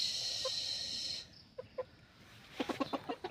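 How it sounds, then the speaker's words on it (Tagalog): Native chickens cluck in a few short, close, moderately loud bursts outdoors, a louder cluster coming near the end after a brief steady hiss. "Ang ating native chickens."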